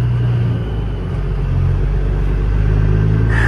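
A truck drives across a lot, its engine rumbling loud and steady with a low idle-to-cruise drone throughout and a slight rise near the end, with no talking.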